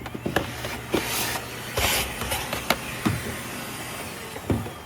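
Shark Zero M vacuum cleaner running after a clog was cleared, a steady close whooshing roar with airy hiss and intermittent rattling clicks as debris is drawn in.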